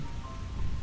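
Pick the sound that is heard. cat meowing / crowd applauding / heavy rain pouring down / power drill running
heavy rain pouring down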